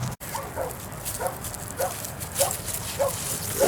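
A puppy gives a series of short, thin yips and barks at a bully breed dog show, spaced through a busy outdoor crowd murmur at moderate distance.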